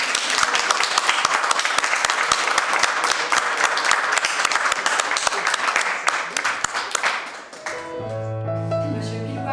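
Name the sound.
applause for newlyweds at wedding ceremony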